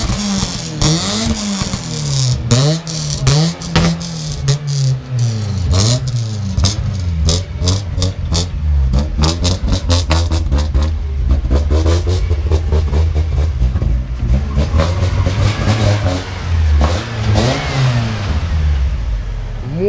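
VAZ 2112 coupe, a bought-dead car, accelerating hard, the engine revving up repeatedly through the gears with rising and falling pitch, loud and close, with clattering mechanical noise and no talk.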